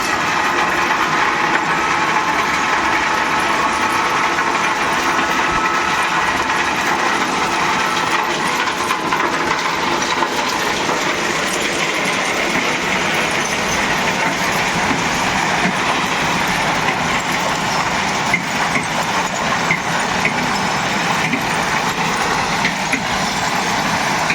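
Ballast train on the Bishnupur–Tarakeswar line slowly moving toward Jayrambati station while unloading stones, a loud continuous rumble of wagons with faint clatter throughout, no voices.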